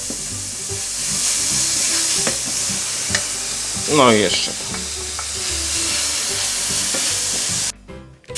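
Beef sizzles steadily in a hot pan over high heat with a constant hissing crackle, close by, as a utensil stirs and scrapes; a voice speaks briefly.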